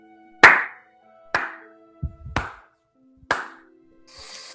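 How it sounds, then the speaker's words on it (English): Four sharp single claps, each ringing out with a short echoing tail in a chamber, spaced about a second apart, with a faint low thump between them and a soft hiss at the end. "you hear this clap echo through the chamber"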